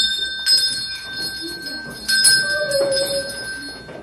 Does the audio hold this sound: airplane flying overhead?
no